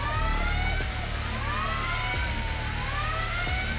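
Police sirens in a video game after an alarm goes off, a steady wailing siren with sweeping pitch that fills the whole stretch, loud and continuous with engine rumble beneath.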